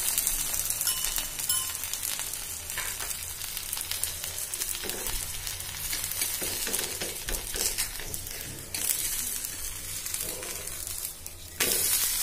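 Oil is drizzled into holes poked in a jowar-flour thalipeeth frying on a griddle, giving a dense, continuous crackling sizzle close up, with a few sharper spits and flare-ups toward the end.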